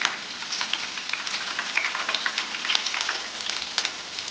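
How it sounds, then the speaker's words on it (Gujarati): Curry leaves and a green chili fry in hot oil for farali chevdo, giving a steady, fine crackling sizzle with small scattered pops, close and moderately quiet, with no voices. "અહીં આપણે 7 થી 8 લીમડાના પાન અને 1 લીલું મરચું એડ કરીશું. તેને પણ તળી લઈશું."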